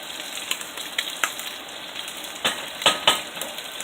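Sausage and Creole-spiced tomatoes sizzle steadily in a frying pan while a utensil stirs them, with soft scrapes and clicks against the pan rising over the close, continuous hiss.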